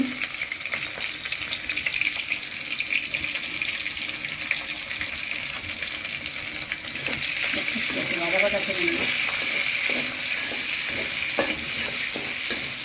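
Chopped onion and garam masala fry in the same oil the chicken was fried in. A loud, steady sizzle carries close-up stirring and scraping, with a voice faint in the background.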